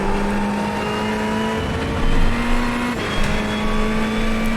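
Ferrari 488 GT3 Evo engine at Silverstone in iRacing, a loud close-up drone held steady then swelling with upshifts and rising revs, with no talking.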